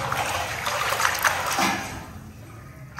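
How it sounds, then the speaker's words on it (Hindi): Water trickling and splashing in a dark, fog-filled room of a house, a close, continuous wash of running water that thins out toward the end, with no one speaking. "यहां से भी पानी टपक रहा है"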